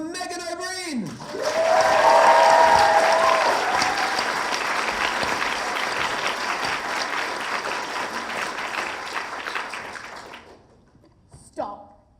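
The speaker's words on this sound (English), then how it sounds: "Please go wild for Megan O'Brien" A school audience at a science-talk final bursts into loud applause and cheering that swells quickly, then holds steady before fading out, with a voice briefly audible at the start and end.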